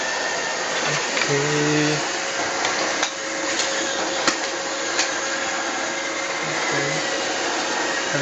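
An iRobot Roomba robot vacuum working along a room's corners, its steady whirring motor drone running loud and close the whole time, with a few faint bumps and beeps and a single brief spoken word.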